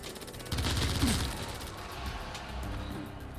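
Gunfire in the online shooter Stay Out sounds as a quick burst of shots and sharp cracks, fairly close at first and then trailing off into scattered, fainter reports, with no talk over it.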